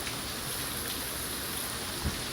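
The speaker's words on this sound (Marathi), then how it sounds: "लांबरा फुल जोरान पाऊस आहे." Heavy rain pours down steadily outdoors on a road, a dense continuous hiss of water with one brief thump near the end.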